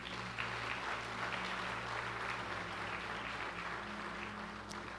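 Soft, steady applause from a church congregation during a worship service, a faint continuous patter of clapping over a low hum of sustained background tones.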